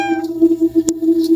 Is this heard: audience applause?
no